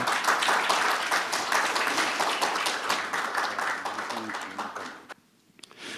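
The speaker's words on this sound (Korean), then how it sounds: "다 같이 박수로 한번 환영해 주시기 바랍니다." A forum audience at a Korean cultural strategy roundtable applauds to welcome the panelists, brisk clapping that thins and fades out, followed by a brief quiet and a few stray sounds.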